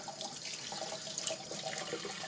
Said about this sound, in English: I'm washing it down the sink today